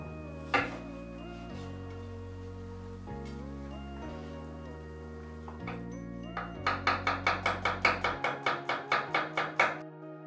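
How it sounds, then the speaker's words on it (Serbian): Knife chopping bell peppers into julienne strips on a board, a quick run of about a dozen sharp, evenly spaced cuts near the end over steady background music. "Zatim, paprika. Što više boja, lepša garnitura izgledati, bit će bolje. Seckamo na žilije."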